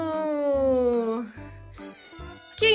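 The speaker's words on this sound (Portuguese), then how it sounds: "Quem acertou que era um gatinho?" A small kitten meows over and over. The cries are high-pitched and sound close, with a short pause between each one and a sharper squeak at the end.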